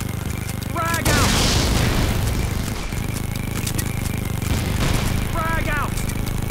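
Frag grenade explosions in a multiplayer war video game, heavy booms and rumbling blasts amid constant gunfire and battlefield noise, with voices shouting over the din.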